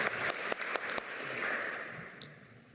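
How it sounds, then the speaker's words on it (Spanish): Applause at a medal ceremony in a government palace honoring a retired national police general: a crowd claps steadily at moderate distance, with a few sharper individual claps standing out before fading. "Fuertes los aplausos para el general de la Policía Nacional del Perú"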